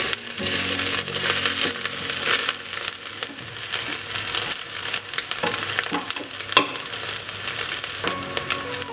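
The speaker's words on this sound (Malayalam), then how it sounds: "ഇറച്ചി അരി ഒരു മിനിറ്റ് നമുക്ക് ഒന്ന് ചെറിയ തീയിൽ വെച്ച് ഒന്ന് വഴറ്റി കൊടുക്കാം." Meat and rice for an Arabian fish dum biryani sauté over a low flame, giving a steady crackling sizzle with scraping and stirring clatters throughout.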